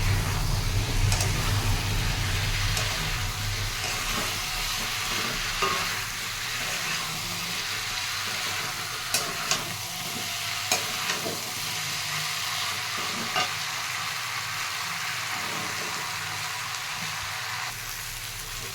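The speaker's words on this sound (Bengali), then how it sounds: "এখন এই এঁচোড়, আলু, চিংড়ি একসাথে দিয়ে দেবো। দিয়ে ভালো করে কষাবো।" Jackfruit, potato and prawns stir-fried with spices in a pan give a steady, close sizzle and scraping stir that runs the whole time with no talking.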